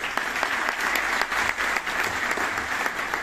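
An audience at a Wildflower Hall hotel gathering claps steadily, a full round of applause with sharp individual claps standing out through the dense patter.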